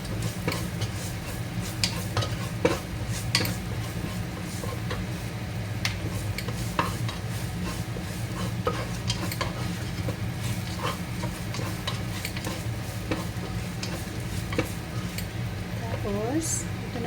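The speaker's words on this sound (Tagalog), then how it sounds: "Slow fry muna tayo. Ito yung garlic natin." Garlic slow frying in a pan for chicken curry, a soft continuous sizzle with frequent light clicks of a utensil stirring against the pan, steady throughout.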